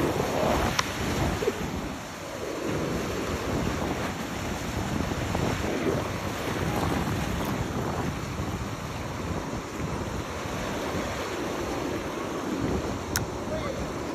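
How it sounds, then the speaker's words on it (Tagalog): Rough sea surf at a fishing jetty, a steady broadband wash of waves with strong wind buffeting the microphone throughout, a few faint voices underneath. "Medyo magulo ang dagat"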